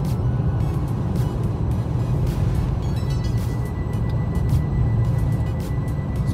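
A Mercedes E53 AMG cruising on Distronic Plus through a motorway roadworks zone, steady road and engine rumble from inside the cabin, moderately loud and even, with no talk.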